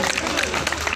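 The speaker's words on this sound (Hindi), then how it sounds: "इसलिए एक बार जोरदार तालियां अपने लिए बजाएं" An audience at a Ramlila committee gathering breaks into steady applause, a dense continuous patter of many hands at moderate distance, with some voices mixed in.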